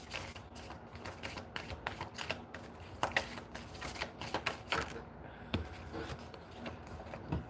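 An oracle card deck is shuffled by hand in quick, irregular bursts of papery riffling and flicking, close up and fairly quiet, with no talking.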